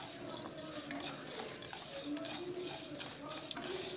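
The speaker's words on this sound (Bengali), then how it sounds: "সাবুটাকে কড়ার মধ্যে একটু নাড়াচাড়া করে আমি গরম করে নিচ্ছি" Sago being stirred in a wok over a medium flame, a faint, steady frying hiss with light scraping and occasional clinks from the utensil, close but quiet, with no one speaking.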